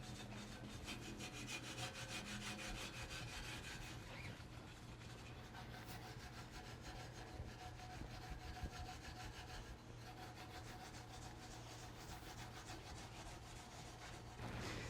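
Steady abrasive rubbing as a 1953 Barris barn-find car bumper is burnished with 4/0 steel wool and metal polish, a continuous close scraping hiss with a low hum running underneath throughout.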